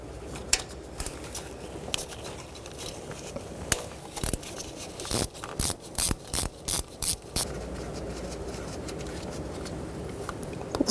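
A ratchet turning a 10mm socket on the camshaft sensor screw of a Toyota RAV4, giving quick bursts of close clicking in short repeated strokes over quiet background, with no talking.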